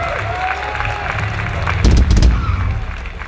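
Audience applause and cheering at a live metal concert at an open-air festival, a steady crowd wash that swells into a louder burst midway before easing off, with a voice speaking over it.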